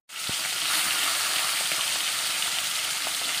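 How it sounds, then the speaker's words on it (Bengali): Small fish sizzle steadily in hot oil in a pan, starting with the heads; the dense crackle begins abruptly and stays loud and even throughout, with no talking. "একেই তো ছোটো মাছ, ভেজে নিই"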